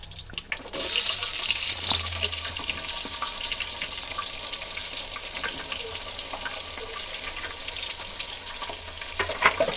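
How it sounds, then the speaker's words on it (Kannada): Onions frying in an open pot for mushroom and peas pulao, a sudden burst of hissing as they hit the hot oil, then a steady close sizzle and crackle with light stirring scrapes. "ಇವಾಗ ಫಸ್ಟು ಈರುಳ್ಳಿ ಹಾಕೊತಾ ಇದ್ದೀನಿ."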